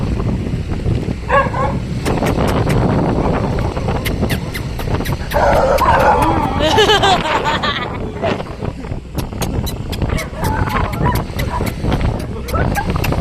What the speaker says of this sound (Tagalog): nagpamahabol kami sa mga aso